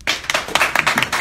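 A small group claps after a political campaign speech for Lambton–Kent–Middlesex, with quick, uneven hand claps close to the listener in a short burst.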